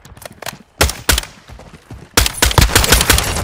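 Loud close gunfire in Call of Duty: Modern Warfare 2 opens with scattered single shots, then a pair of heavy blasts, then a sustained rapid automatic burst, with no talking.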